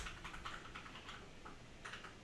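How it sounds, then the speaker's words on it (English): Faint, quick keystrokes as a number is typed on a computer keyboard, a short run of soft clicks, then a pause, then a couple more, over low room hiss. "And then type in the value on the keyboard, 700 for example."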